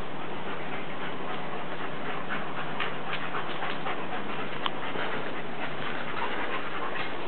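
Young puppies, about a month old, panting and snuffling close by in a steady, breathy rhythm over a constant background hiss, with a few faint ticks and no talking.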